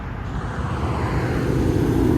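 A steady, rising roar of an airplane approaching overhead at a cars and coffee meet, broad and distant at first and growing louder, with no talking.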